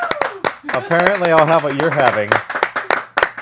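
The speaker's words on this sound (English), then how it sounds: "Round of applause." A studio audience applauds in a sitcom-style talk-show setting. Scattered hand claps come in short bursts, while a loud voice speaks over most of it.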